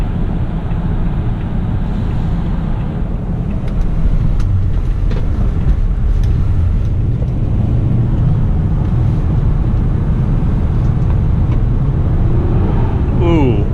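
Toyota Camry XLE V6 from 2013 pulling away from a stop with one-wheel peel, a loud, steady engine roar building under continuous road noise for about fourteen seconds, heard from inside the car.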